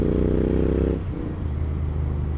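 A GT 650 motorcycle fitted with a Red Rooster exhaust and performance air filter revs hard and loud up close, then drops back to a lumpy idle rumble.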